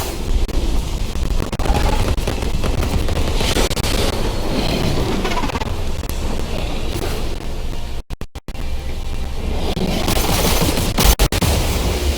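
Dense gunfire and explosions fill a firefight in the video game The Cycle, a loud continuous barrage of shots and booms with brief gaps, and no voices.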